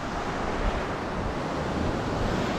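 Waves surging at full high tide on Batu Linting beach, a steady, loud wash of surf with wind buffeting the microphone, continuous and unbroken with no voices.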